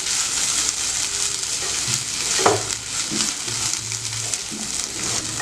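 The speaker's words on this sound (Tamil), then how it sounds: "எண்ணெயிலேயே அது வதங்கிடும்" Mint and ginger sauté in a little oil in a pan, a steady close crackling sizzle with a few soft stirring scrapes and bumps, and no one speaking.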